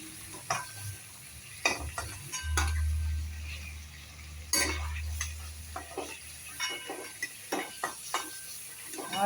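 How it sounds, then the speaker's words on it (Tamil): Onions sizzle in hot oil that was just used to fry chicken for a masala gravy, with soft stirring and occasional clinks of a metal spoon against the pan, fairly quiet and close. "சூடு எண்ணெயில் ஒரு தடவை இந்த மாதிரி போட்டு எடுத்ததுனால இப்போ இந்த எண்ணெயில் வெங்காயம்லாம் வதங்கும்"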